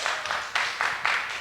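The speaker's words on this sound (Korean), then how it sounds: "다 같이 박수로 환영해 주세요" An indoor church audience claps to welcome a guest flute player, brief, close applause in uneven bursts.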